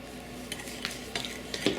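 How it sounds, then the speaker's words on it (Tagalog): Seasonings for fried chicken marinade, including nutmeg, garlic powder and ground black pepper, are stirred together in a bowl, with soft scraping and a few light clinks close by and no talk. "Ang importante dito, nahalo natin mabuti itong mga ingredients."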